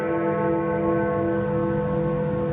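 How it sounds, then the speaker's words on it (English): A church bell tolls midnight with a dense, sustained ringing hum that stays loud and even throughout, with no voices. "The bell tolls midnight"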